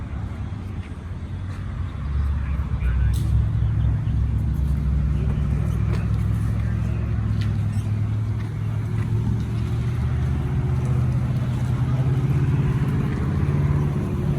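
A Volkswagen GTI cruises on a road trip, its engine and tyre noise forming a steady, loud interior drone that rises after a brief quieter start and holds even throughout.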